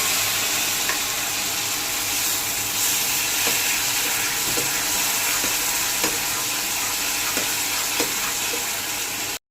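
Spice paste sizzling and frying in a pan with hot water added for a homestyle prawn curry, a steady close hiss with occasional stirring scrapes throughout.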